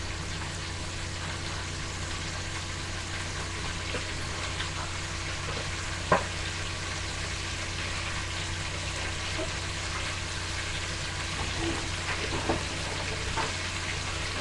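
Food braising in a pan sizzles steadily and loudly from start to finish, a constant hiss with a few faint clicks and scrapes and no talking.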